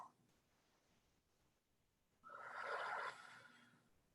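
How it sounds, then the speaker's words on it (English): Deep breathing during a seated chair exercise session: quiet, soft breaths early on, then one louder, longer exhale lasting about a second close to the mic. "finish up with some deep breathing"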